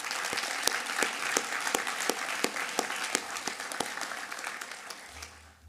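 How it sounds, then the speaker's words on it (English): Sustained applause from a crowd at a college of pharmacy white coat ceremony, many hands clapping steadily at moderate distance, gradually fading toward the end. "could we get a round of applause for the parents and family that are here"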